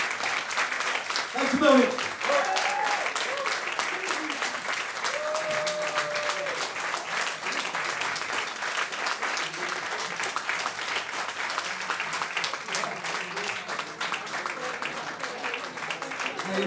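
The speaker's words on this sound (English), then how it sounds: "you've just clapped a little bit too fucking long" Sustained audience applause fills a live blues gig at a small café venue, steady dense clapping throughout with a brief spoken thanks from the performer near the start.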